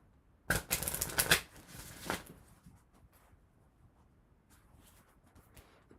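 Oracle cards from a Sacred Power deck being shuffled, a brisk burst of riffling and flicking up close for about two seconds, then a brief slap before near silence.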